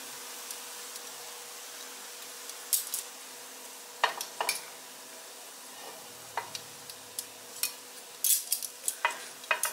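Sausage for hot dogs goes into a pan, a faint soft sizzle under scattered clinks and scrapes of utensils against the pan, quiet and close, no voices.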